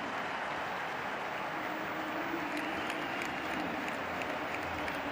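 Steady roar of a stadium crowd applauding Sachin Tendulkar's century during the 2011 World Cup match between India and England. The clapping and cheering stay sustained and distant, forming a dense wash of sound with no clear breaks.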